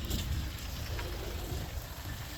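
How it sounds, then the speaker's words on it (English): Heavy rain falls steadily somewhere in Japan, producing a dense, continuous hiss with a low rumble underneath. It holds at an even, moderate level throughout, with no voices. "Ooh, so much rain."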